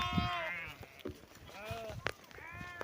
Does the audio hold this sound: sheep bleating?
yes